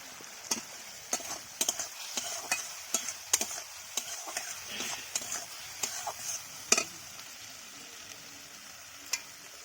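Potatoes frying with browned onions in a pan for a rohu fish curry: a soft, steady sizzle broken by regular spatula scrapes and clicks that thin out toward the end.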